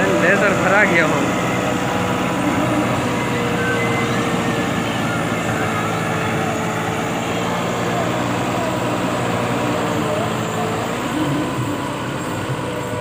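A powerful NH Dabung 85 tractor with a laser leveller idles with a steady, continuous engine drone and hum, fairly loud and close, with someone speaking over the noise.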